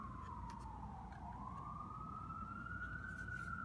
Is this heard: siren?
yes